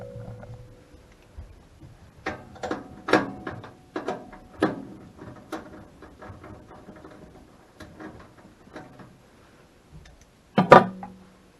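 Screw being backed out of a Lennox Elite furnace panel with a 1/4 inch driver to pull out a part: a series of close, sharp clicks and scraping ticks at irregular intervals, ending in a louder clack, with no talking.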